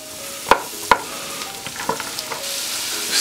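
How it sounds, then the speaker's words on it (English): Fresh sliced butternut squash and garlic fry in a pot, a soft continuous sizzle punctuated by sharp scraping stirs and utensil knocks, close by, with the hiss swelling toward the end and no one talking. "some fresh butternut squash and some garlic. I kind of chopped up, sliced up. I'm gonna cook this 2 minutes or so."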